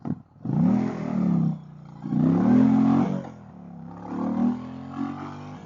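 An Indian motorcycle accelerates hard in first gear, the engine note rising in three strong pulls with short drops between them, loud and close with no one talking.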